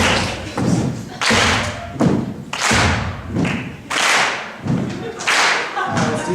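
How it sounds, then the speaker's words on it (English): An audience at a live performance stomps and claps along in a steady repeating beat, heavy thuds alternating with sharp claps, loud and close for several cycles. "Can I get everyone to stop and clap?"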